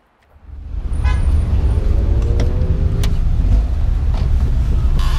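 A Citroen AX engine comes up from near silence and settles into a loud, steady drone with road rumble as the small French hatchback laps the Nürburgring, and a few faint squeaks sound over it.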